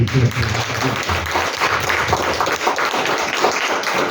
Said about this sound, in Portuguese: Manda uma salva de palmas de Jesus para